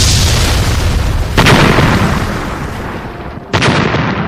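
Rockets fired in an armed clash, heard as a rumbling roar followed by two sharp booming blasts, the second after a brief lull, loud and with no talking.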